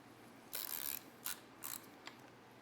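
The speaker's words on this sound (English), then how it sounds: "Then go ahead and tighten that bolt." A ratchet wrench tightening a bolt on a motorcycle build, giving several bursts of rapid clicking of varying length, close and crisp over a quiet room.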